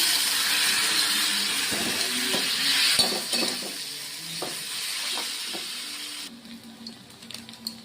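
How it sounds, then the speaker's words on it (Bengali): Chowmein noodles with fried carrots and beans tossed into a hot pan, giving a steady loud sizzle and hiss with scraping stir strokes, the frying fading somewhat toward the end. "এবার দেখো আমি চাউমিনটা দিয়ে দেবো।"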